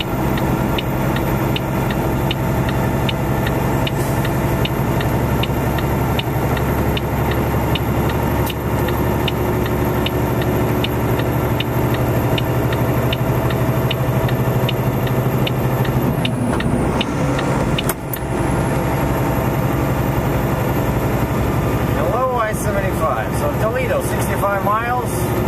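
A heavy haul truck's engine drones and revs while climbing a hill on a highway, a loud continuous rumble with a brief hiss partway through and someone talking over it.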